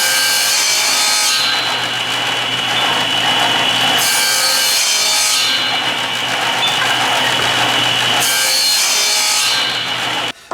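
Table saw ripping wood while a hold-down stick pushes the board past the blade: a loud, steady broadband cutting roar with a constant motor hum, swelling and easing in repeated passes, close and without speech.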